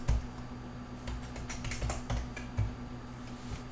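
Keys clatter on a computer keyboard as a password is typed, a quick irregular run of soft close taps over a faint steady electrical hum.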